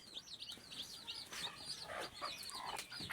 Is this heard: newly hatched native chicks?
yes